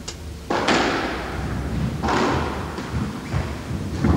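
A squash ball is struck during a rally in a 1981 semi-final, with a drop shot; a few sharp, hollow thuds echo around the court at irregular intervals, close and fairly loud, with no talking.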